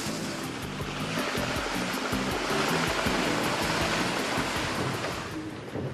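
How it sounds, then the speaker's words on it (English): A steady, dense rush of flowing water fills the scene as a convoy of Land Rover Discovery vehicles crosses a rocky river, with no distinct engine note standing out above the churning water. "One at a time, following precisely in each other's wheel tracks, the convoy inched its way across the river"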